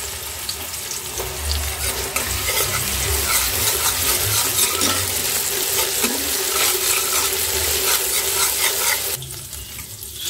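Ginger spice paste sautéed and stirred in a pan while cooking khichuri: a loud, steady sizzle with scraping stirs runs throughout, then drops sharply quieter near the end.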